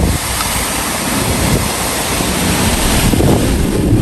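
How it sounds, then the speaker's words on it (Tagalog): Strong typhoon wind roaring constantly, a loud broadband rush buffeting the microphone without pause, swelling slightly toward the end. "Grabe po, ang lakas ng hangin."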